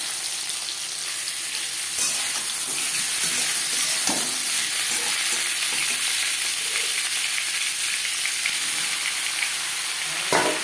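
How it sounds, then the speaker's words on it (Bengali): Boiled potatoes frying in about three spoons of refined oil, a loud continuous sizzle and hiss close up with a few stirring clicks. "সবার প্রথমে আমি আলু ও সোয়াবিন ভেজে নেব"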